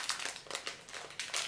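A wrapped package from a monthly spiritual subscription box is torn open, with a few close, soft crinkling rustles of paper or plastic wrapping in quick bursts.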